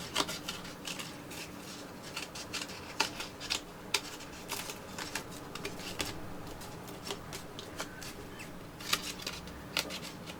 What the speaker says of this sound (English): So you need to just tilt your scissors so they go underneath the actual frame